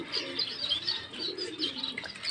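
Pigeons in a home flock coo and chirp continuously nearby, with a brief flutter of wings, and no one speaks over them.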